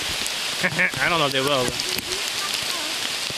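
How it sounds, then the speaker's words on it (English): Steady rain falls on a wooded trail during a walk in stormy weather. The constant patter continues under brief speech, and there is a short whistle-like call. "This is my kind of weather right here. Rainy, stormy."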